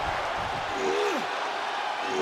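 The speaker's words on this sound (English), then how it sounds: "The crowd is behind DDP, and he knows it" A crowd roars steadily at a wrestling match in the WWE 2K24 video game, a loud, continuous wash of cheering and applause that stays dense from start to finish.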